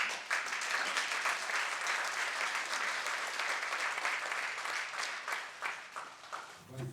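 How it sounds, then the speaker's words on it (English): Audience at an MPA seminar applauding a speaker, a dense, sustained wash of clapping from a crowd, steady and fairly loud with no voices over it. "Please give him another round of applause."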